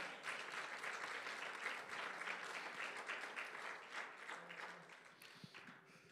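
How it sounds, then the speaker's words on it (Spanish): A church congregation applauds at an evangelical service, a steady wash of clapping that holds throughout and thins slightly toward the end, with no one talking over it. "Dale un aplauso a Cristo, mis amados hermanos, aleluya."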